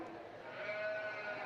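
Sheep bleating in a county fair livestock arena, a steady sustained cry over about a second and a half with constant crowd and arena murmur underneath.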